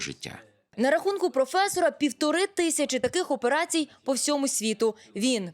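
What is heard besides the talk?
No distinct noise like a dog, phone or traffic.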